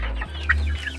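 Free-range hens on a farm cluck in a short, close burst of a few calls, heard over a steady low rumble from the surroundings.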